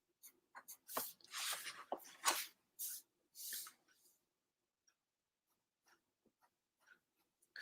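Pen scratching across paper in a studio, a series of close, dry strokes of varying length, busy at first then thinning to faint isolated ticks and taps.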